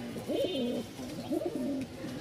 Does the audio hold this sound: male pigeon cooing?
yes